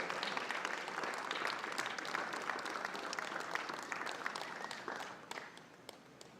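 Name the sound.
stadium crowd applause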